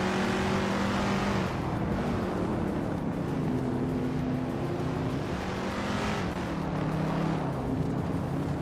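Race car engines in a racing video game, including a 1966 Chevrolet Chevy II Nova SS, a steady loud drone of several motors with rising and falling revs and gear changes, no voices.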